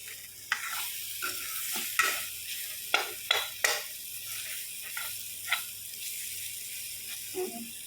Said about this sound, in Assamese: মই অলপ কম পৰিমাণ তেলত ভাজিছোঁ